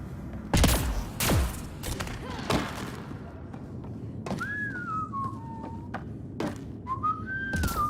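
Whistled melodic tones rise and fall alone in the middle and end of a Mass Effect Andromeda game scene, following several loud thuds and bursts of gunfire early on, over a low rumbling background.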